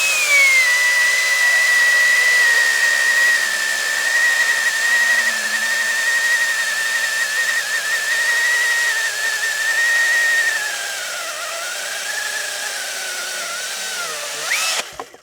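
High-pitched whining motor of a Husqvarna 550i XP battery chainsaw cutting wood steadily for about ten seconds, then the pitch drops and winds down as it finishes.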